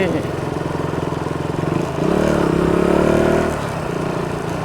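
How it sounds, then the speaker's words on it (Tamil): A motorcycle engine hums steadily while riding near Anaikattu bridge in Batticaloa, swelling louder for a moment in the middle before easing back, with voices talking faintly over it. "ரஜேஷ் இருபதுல தான் பைக் ஓடுறான்டா"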